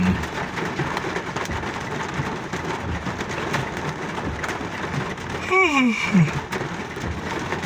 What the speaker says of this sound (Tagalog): malakas talagang buhos ang ulan